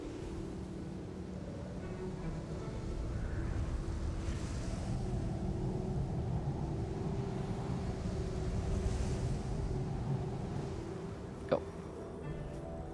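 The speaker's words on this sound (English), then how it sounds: "The wind's gonna pick up again" Wind rising across the desert in the video game Journey, a steady broadband rush that swells in the middle and holds, with a single brief click near the end.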